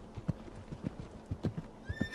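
A horse in the Roblox video game clops its hooves in a rough rhythm, then gives a rising whinny at the end, with moderate, close sound and no talk.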